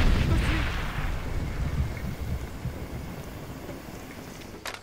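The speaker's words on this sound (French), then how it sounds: "Mets gaffe, grenade." A grenade blast in the shooter Far Cry 2: a heavy, booming explosion opens loud and rumbling, then fades into a long windy tail, with a brief sharp crack near the end.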